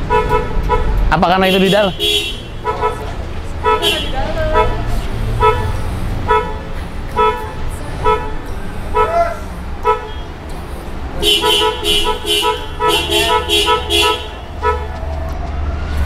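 A Honda City hatchback's horn sounds in several short, loud toots and a rapid burst of honks nearby, while people talk around the car.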